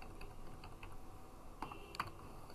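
Computer keyboard keys tapped in a steady run while a password is typed to log in, close and fairly quiet, with two slightly sharper clicks near the end and no talking.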